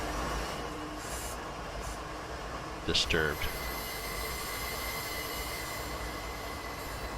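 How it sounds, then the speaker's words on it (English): A runaway CP Rail freight train in Train Simulator 2019, heading westbound toward Field on a winter night, with steady rumbling wheels and a sharp squeal midway, under occasional speech. "We got a runaway train."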